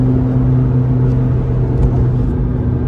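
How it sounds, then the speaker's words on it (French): A McLaren limited to eight units worldwide, driven hard with its turbos spooling: a loud, steady, close engine rumble with a sustained whining hum and no break. "On entend le bruit des turbos en fait"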